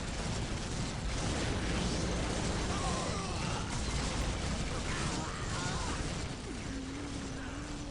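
Grenade explosions in Warhammer 40K Dark Crusade, a strategy game battle: a constant roar of blasts, crashes and mechanical clatter, dense and loud throughout with no pause.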